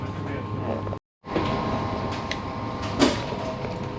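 Inside a Finnish train compartment on a double-decker train, a steady low rumbling hum fills the space, broken once by a brief cut, with faint clicks and a soft knock.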